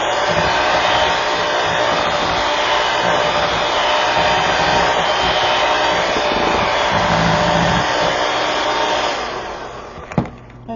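Electric hand mixer beating sweet potato casserole with lemon zest in a bowl, a steady loud whir that runs unbroken for about nine seconds, then dies away, followed by a single sharp clink near the end.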